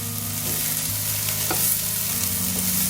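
Rice fries in a hot pan as it is stirred, with a steady dense sizzle and faint scraping strokes throughout, close and continuous.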